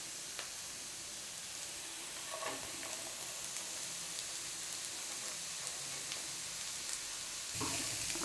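Finely chopped cabbage is stirred and fried in a pan with onion and green chilli, giving a soft, even sizzle with faint scraping from the stirring.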